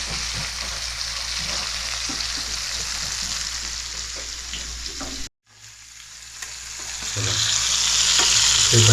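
Fish fries in a pan with a loud, continuous close sizzle and crackle that cuts out briefly, then returns and swells louder, with no talking.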